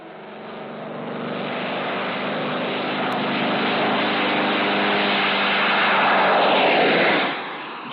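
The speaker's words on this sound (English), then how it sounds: "Jet-assisted takeoff." A propeller aircraft roars through a jet-assisted takeoff, a loud, steady engine drone that builds slightly over several seconds and then drops away near the end, with no voices.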